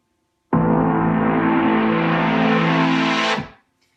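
A sustained synth chord with an extremely fast LFO rate, bright and buzzy with a slowly brightening edge, holds loud and steady for about three seconds alone before fading out quickly.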